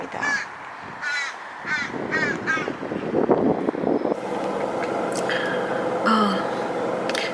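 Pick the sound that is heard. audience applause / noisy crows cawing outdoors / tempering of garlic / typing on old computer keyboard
noisy crows cawing outdoors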